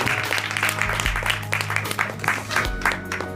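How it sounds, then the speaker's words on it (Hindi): An audience at a prize distribution ceremony breaks into a burst of applause, with steady, fairly close clapping from many hands for a few seconds while a low tonal hum runs underneath. "इनके लिए भी जोरदार तालियां।"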